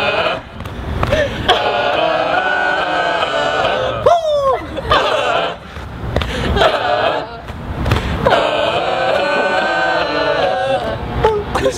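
A school football crowd at Columbus Academy chants the Wolf of Wall Street cheer, a dense mass of voices sustained throughout with a rhythmic pulse and a sharp whooping call in the middle.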